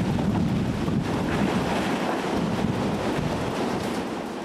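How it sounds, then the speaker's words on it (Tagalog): Typhoon Odette's winds batter a wide building roof in Liloan, a loud, continuous roar of wind buffeting the microphone with dense rushing noise throughout and no voices. "Katabi ng nilipatan naming mas ligtas na gusali, kinakalampag ng bagyo ang malapad na bubong na ito."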